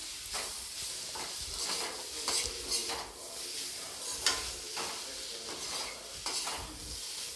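Bitter gourd (karela) being stirred in a pan with fennel powder, a spoon scraping and clinking against the metal in irregular strokes over a soft background sizzle, close and moderately loud.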